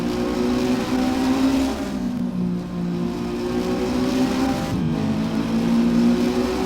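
Race car engine on a circuit, held at a loud, droning pitch that climbs under throttle, dips briefly at a gear change and climbs again, accelerating out of a corner toward the rumble strips.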